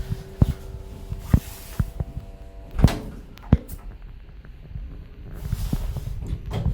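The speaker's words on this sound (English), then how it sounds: "The doors are very slow." Doors of an old Evans passenger lift, rated for 10 persons and 800 kilos, close slowly in a shopping centre. Scattered thuds and clunks sit over a low motor hum, with a brief rumble near the end.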